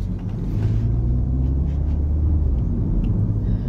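Mini Cooper John Cooper Works pulling away on the road, a steady low engine rumble with road noise heard from inside the cabin, continuous and fairly loud throughout with no talking.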